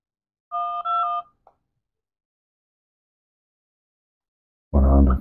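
A FreeYond M5 phone places a call, giving two short, clean electronic dial tones followed by a brief click, then silence before a voice begins at the end.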